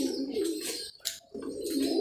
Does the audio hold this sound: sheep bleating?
no